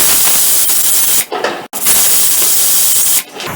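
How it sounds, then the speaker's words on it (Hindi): A loud, steady broadband hiss of a pressure cooker venting steam while cooking sweet jaggery porridge, briefly cutting out twice before resuming. "2 सीटी आ गई है।"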